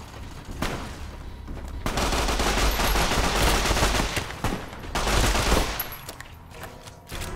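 Gunfire in Fallout: New Vegas rattles in two long, loud stretches of sustained automatic fire, separated by brief lulls with scattered shots.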